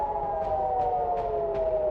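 Air raid sirens sound over Tel Aviv during a missile attack, a steady wailing tone holding throughout with faint repeated pulses above it, heard at a distance.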